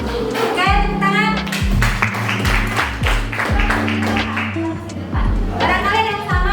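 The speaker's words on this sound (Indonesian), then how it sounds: "Oke, tepuk tangan." A group of people, likely in a classroom setting, clap their hands in a rhythmic burst while voices and a tonal backing sound continue underneath, the claps close and fairly loud.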